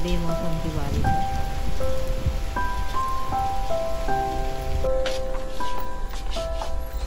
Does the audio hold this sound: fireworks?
no